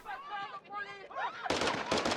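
A voice talks over the opening, then a sudden loud burst of rapid gunfire erupts in Call of Duty Modern Warfare 2, several sharp close shots in quick succession to the end.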